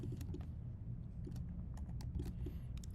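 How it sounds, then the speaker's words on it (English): Keys are struck on a computer keyboard in a soft, irregular sequence of light clicks, close but faint over a low background hum. "click Command J on your keyboard"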